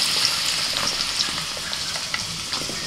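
Chunks of potato, pumpkin, sweet potato, radish and pointed gourd frying in hot oil, a steady close sizzle with soft crackles and light stirring scrapes throughout.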